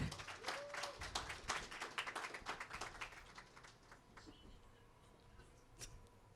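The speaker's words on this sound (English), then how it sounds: "everybody give a round of applause for Ms. Meagan Ward" Faint, quick, dense clapping from an audience applauding a guest at a community event, fading over several seconds with a voice briefly heard underneath.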